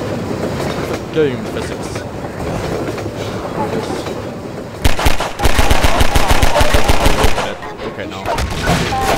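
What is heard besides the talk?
train passing in video game Half-Life 2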